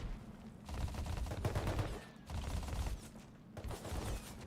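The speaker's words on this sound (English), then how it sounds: "Who the fuck is shooting me?" Bursts of rapid automatic gunfire in a video game, loud and close, in three sustained volleys separated by brief pauses, with mechanical clatter mixed in.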